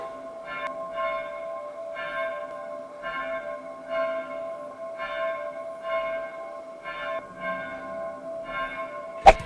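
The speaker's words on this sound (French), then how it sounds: "les cloches ont fini de sonner" Church bells ring in a slow, regular peal, several strikes spaced evenly, heard from a moderate distance with a sharp knock at the end.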